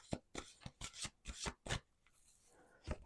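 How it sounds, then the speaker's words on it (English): Bent playing cards riffle-shuffled several times in quick, uneven bursts, each a short papery flutter, close and fairly quiet, ending with a final snap. "Let's do one more shuffle."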